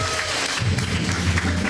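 Brief burst of applause from a church congregation, dense clapping close and loud with a low murmur of voices underneath.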